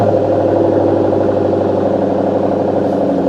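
A Shelby car's engine runs through its exhaust line, a loud, steady, close burbling idle with a low throbbing pulse and no talk over it.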